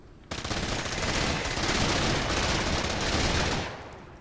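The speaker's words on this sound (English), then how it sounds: "we're about to see what an SMG does to spiderlings at point-blank range" A submachine gun fires a sustained burst at point-blank range on bug-like spiderling creatures in the video game MENACE, loud dense rapid gunfire running about three seconds before trailing off.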